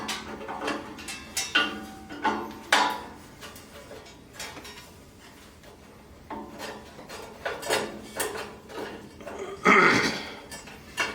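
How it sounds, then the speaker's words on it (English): Metal bolts pulled from a Clark 4½-inch metal bandsaw, giving a run of close, irregular scrapes, clinks and rattles with a brighter metallic clatter near the end. "all you have to do is pull the 2 bolts back out"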